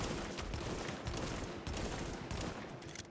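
Heavy gunfire rings out in The Division on PC, including sniper shots, a dense, sustained barrage of overlapping cracks and rumble that keeps up steadily throughout.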